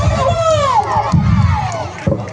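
Crowd cheering and shouting at a village drama event after sponsors are announced, a dense roar of many voices with children's cries, close and loud throughout, bursts of clapping underneath.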